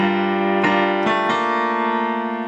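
Piano plays a short phrase, sustained notes layered with three quick successive keystrokes that push the rhythm forward, loud and close with no talking.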